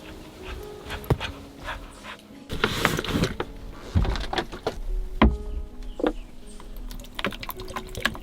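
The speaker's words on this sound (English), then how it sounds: "that's one happy flying dog right there." A dog pants steadily indoors in a forest cabin during a snowstorm, with quick rhythmic breaths mixed with scattered clicks and knocks nearby.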